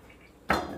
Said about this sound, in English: Give them a rinse real quick to rinse some of the excess starch off.